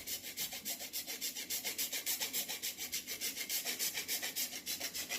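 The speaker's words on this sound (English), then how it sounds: "Gonna take some shavings from our candle, which actually adds a nice wax flavor" A blade scrapes shavings off a wax candle in quick, even rhythmic strokes, a close, soft rasping repeated about four times per second with no talking.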